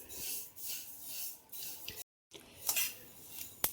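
Sesame seeds dry-roasting in a kadai over low heat, stirred with a spoon: soft scraping and clinks of metal on the pan in irregular strokes, close and quiet, with a brief silent gap partway.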